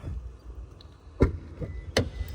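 A Maruti Suzuki Grand Vitara locks with two crisp mechanical clunks from the door locks about three-quarters of a second apart, heard over a low ambient background.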